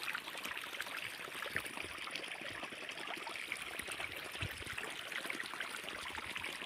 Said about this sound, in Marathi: चाललं आहे आपलं हळूहळू पाणी चाललं आहे।